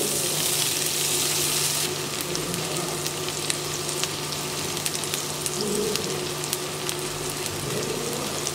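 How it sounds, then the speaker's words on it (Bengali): Chopped onions frying in hot oil, a steady dense sizzle throughout with occasional crackles and pops, close by and fairly loud. "পেঁয়াজ কুচিগুলোকে আমি একটু ভেজে নিচ্ছি"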